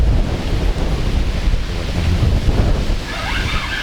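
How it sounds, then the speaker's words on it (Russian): Strong wind blowing at a river in Astrakhan while fishing, loud gusty buffeting on the microphone with a deep continuous roar throughout and no speech. "Сейчас вот раздувается ветерок."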